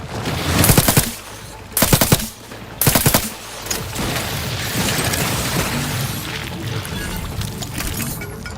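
A newly picked-up gun fires in The Outer Worlds 2: three short, loud automatic bursts in a row, followed by a steady low rumble of ambience.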